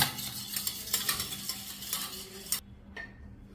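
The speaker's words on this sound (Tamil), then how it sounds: "இப்போ முட்டையை நல்லா அடிக்கிறோம்" Three eggs beaten in a bowl for egg ball curry, a quick rhythmic clatter of whisking strokes, close and steady, stopping abruptly near the end with a faint clink after.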